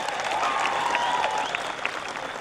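A political rally crowd applauds a speech addressed to Adivasi listeners in Palghar, a steady wash of many hands clapping at a moderate distance that lasts the whole moment, without any speech.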